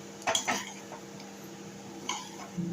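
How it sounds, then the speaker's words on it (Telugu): A spoon stirs dal curry with salt and turmeric, giving a few soft clinks and scrapes against the pot in quick bursts near the start and end, close and fairly quiet. "దీన్ని బాగా కలుపుకుంటాను."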